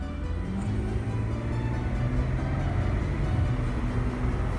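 A 2001 Honda Passport with an automatic transmission accelerates from inside the cabin, its engine and road noise a steady, fairly loud drone with a brief dip in pitch as a gear change comes through, no voices.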